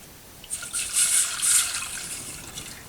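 Two cups of 100% orange juice are poured into a pan, a soft bright trickling stream that swells and fades over a couple of seconds, close and without talk.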